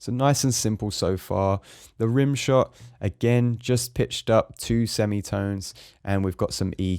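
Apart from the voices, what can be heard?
None of the usual background noises is heard.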